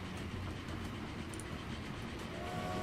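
A train rolls out in Transport Fever, a low steady rumble of rail cars with faint clatter and a brief high whistle-like tone near the end, heard alone without talk.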